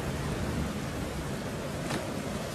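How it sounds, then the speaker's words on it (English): Heavy rain pours in a dense, steady hiss with a low rumble underneath, constant and enveloping, with no voices. "it's raining a lot"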